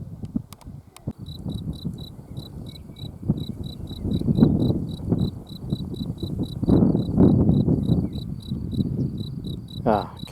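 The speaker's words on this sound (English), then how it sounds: "This is the nice sound of nature." Crickets and other insects chirp outdoors in a natural setting, a steady high pulsing trill repeating throughout, over a low rustling wind and background rumble with occasional brief buzzes.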